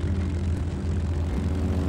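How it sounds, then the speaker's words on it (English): Seiran seaplane on floats launching into the air, a steady loud propeller engine drone with no other sound over it. "The floats attached, and the Seiran launched into the air."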